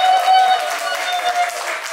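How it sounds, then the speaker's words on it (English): A short, moderately loud round of applause from a conference audience, brief and even, with a faint tone running underneath. "Give yourself a round of applause."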